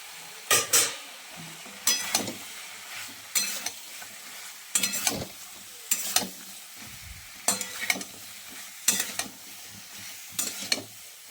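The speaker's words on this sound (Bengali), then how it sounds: "এবার আমি সিমটা দিয়ে দেব" Flat beans stirred in a frying pan, a steady sizzle underneath and about ten sharp scraping strokes of a spatula at regular intervals, close and fairly loud, no talk.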